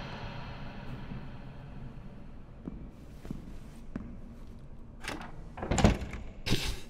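A door in the horror game Layers of Fear bangs shut in a few sharp knocks toward the end, after several seconds of low rumbling ambience and faint creaks.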